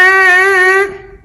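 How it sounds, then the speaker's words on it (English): A single buzzing, brassy tone from lips buzzing into a trumpet mouthpiece holds steady for about a second, then fades out, close and loud. "The trumpet makes its sound with the mouthpiece by using a buzz."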